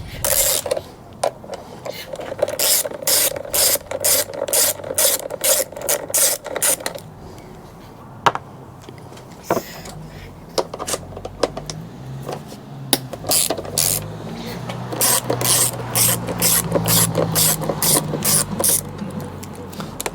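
An 8 mm ratcheting wrench works bolts on a motocross bike, giving rapid bursts of clicking ratchet strokes, close and loud, repeated in several runs with brief pauses.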